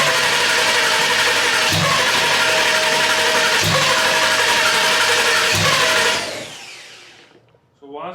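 A turbocharged Ford Coyote V8 with Holley management runs roughly on its first start, a loud droning rumble with a few rhythmic thumps before it winds down and dies into quiet.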